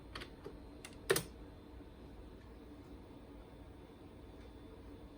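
A few keystrokes are tapped on a computer keyboard, faint and sparse, with one louder key press near the one-second mark before the sound settles into quiet background hum.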